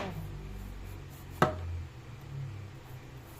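A single sharp knife chop through patola (sponge gourd) on a cutting board, one crisp close thud in an otherwise quiet kitchen.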